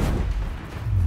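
A Bombarda blasting spell bursts in Hogwarts Legacy, a deep heavy boom with a rumbling low-end tail over about a second, loud and close.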